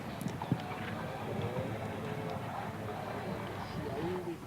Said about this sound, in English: Again, a relatively new horse for Harry.